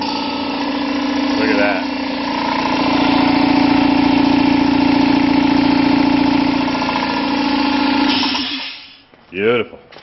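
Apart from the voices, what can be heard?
engine being cranked up and idling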